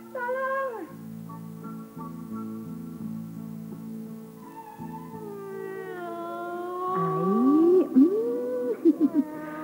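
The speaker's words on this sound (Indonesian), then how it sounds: "Ada kucing di sini rupanya." A cat meows in long, drawn-out, wavering calls that rise into louder, strained, caterwauling cries near the end, heard close and clear with a steady low hum underneath.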